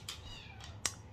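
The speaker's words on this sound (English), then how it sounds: "That's the new foster kitty." A shy young foster kitten meows indoors, two or three faint, high, brief cries in quick succession followed by a slightly sharper final squeak, alone in a quiet room.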